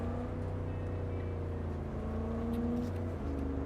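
Gang car engine in Cyberpunk 2077, a heavy truck-like vehicle, droning steadily at a low pitch with a slight rise in revs near the end, continuous and close, with no voices.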